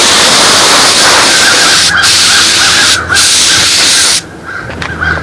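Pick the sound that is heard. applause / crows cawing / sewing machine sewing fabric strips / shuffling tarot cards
crows cawing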